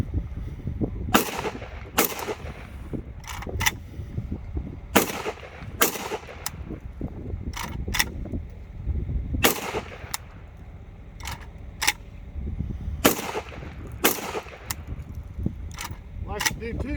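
A Spetz 12 shotgun from Saltwater Arms, fitted with a Texas Precision Products Siga 12 muzzle brake, fires repeated loud, sharp blasts at irregular intervals, some in quick pairs, over a noisy outdoor background.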